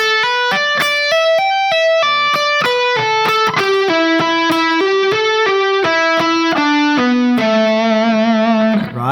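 Distorted electric guitar plays a fast descending pentatonic lick, a rapid run of bright sustained notes stepping down the strings and ending on a long held, vibrato-tinged tone, loud and alone.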